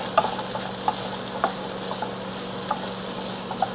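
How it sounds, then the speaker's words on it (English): Blackened shrimp and tuna frying over medium-high heat while being stirred, a steady close sizzle punctuated by several sharp utensil clinks against the pan at an irregular pace. "I'm going to give these a little mix here"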